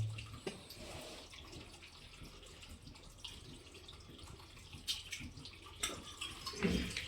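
Quiet, steady rush of water flowing into a farm tank from a well, with a few faint splashes and clunks, heard alone without talk.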